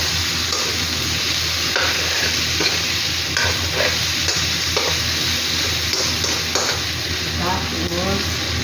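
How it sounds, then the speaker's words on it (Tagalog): Chicken pieces fry in a pan with a continuous loud sizzle and frequent stirring clatter, with no break and no talking. "So, lagay natin ang chicken."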